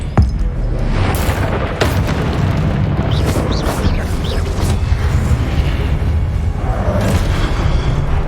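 Spell combat in Hogwarts Legacy with a disarming spell cast amid a dense, continuous roar of game effects: booming blasts, bursts and sharp cracks overlapping throughout, loud and close, with shouted voices mixed in.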